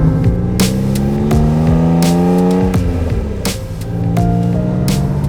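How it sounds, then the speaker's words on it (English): A Honda NSX's 3-liter V6 runs close and loud, its tone climbing and falling through several revs with sharp shifts and bursts, no voices. "when you start an NSX, that 3-liter V6 behind you just bursts to life"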